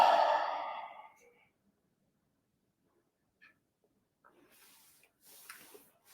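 A long, audible exhale during a guided breathing exercise is heard as a breathy sigh that fades over about a second. Quiet rustles and soft noises follow.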